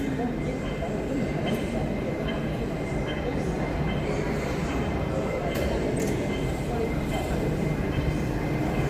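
Underground airport metro train running three floors below Hong Kong airport, a steady dense rumble and rolling hiss throughout with faint voices mixed in.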